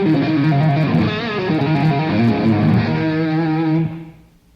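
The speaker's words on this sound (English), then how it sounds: "Then I'm running into a distortion box" Electric guitar through a distortion pedal plays a short sustained phrase with a gritty, saturated tone, then the final chord rings out and fades.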